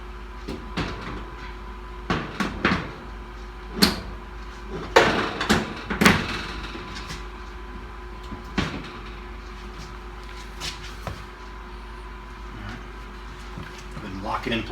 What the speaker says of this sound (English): And put the door back on.